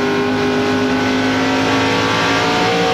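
NASCAR race cars at the 2002 Subway 400 roar steadily together, a loud, continuous blend of high-pitched engine drone with layered tones, no pause across the stretch.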